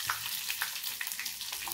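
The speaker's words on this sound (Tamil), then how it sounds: "கருகு பொரிஞ்சிருச்சு, நல்லா பொரிஞ்சிட்டு கருவேப்பிலை போட்டுட்டேன்." Mustard seeds and curry leaves sizzle in hot oil in a pan on low heat for onion chutney, with a steady close hiss broken by small pops and crackles.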